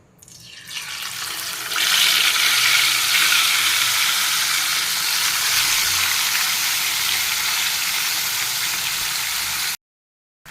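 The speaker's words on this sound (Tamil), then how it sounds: "ஆயில் சூடாகிடுச்சு இப்போ சிக்கனை போட்டுடலாங்க" Loud, steady sizzling of chicken frying in hot oil starts abruptly and continues without pause, close by, until it suddenly cuts off.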